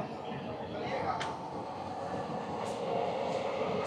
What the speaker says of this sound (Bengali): ভাগলপুর জংশন থেকে 53 কিলোমিটার পথ অতিক্রম করে ট্রেনটি তার দ্বিতীয় হল্ট জামালপুর জংশনে প্রবেশ করলো।